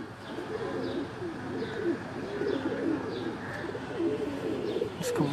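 Pigeons in a loft coo steadily in soft, repeated rolling calls, fairly close, with faint chirps and background noise throughout.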